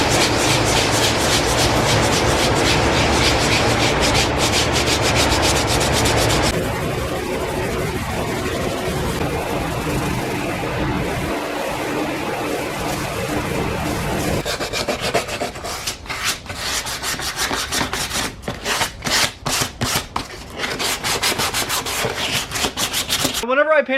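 Steady abrasive rubbing of sandpaper across a painted car bumper, a continuous close scratchy rasp that shifts in texture partway through and turns into quicker, choppier strokes near the end.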